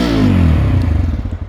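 A 2026 Bajaj Pulsar 125 motorcycle engine revs up loudly nearby, then settles back into a throaty, pulsing exhaust burble as the revs drop.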